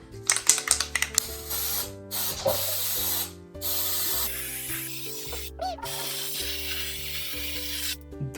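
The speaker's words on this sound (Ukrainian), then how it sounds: "Для цього діла я купив цілих три балончика е, штучного снігу, і зараз буду пшикати." Artificial snow sprays from aerosol cans onto a New Year tree in a room being decorated: several long hissing bursts, close and loud, with short pauses between them over light background music.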